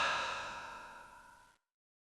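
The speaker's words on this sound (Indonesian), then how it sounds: "disusul bunyi seperti seseorang menghela napas panjang dan berat" A long, heavy breathy sigh used as a horror-story sound effect, starting strong and slowly fading over about one and a half seconds before cutting to silence.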